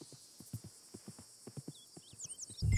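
Hooves clip-clop steadily on the ground as a horse walks in Red Dead Redemption 2, about a dozen evenly spaced soft thuds, with distant birdsong and a louder rustle at the end.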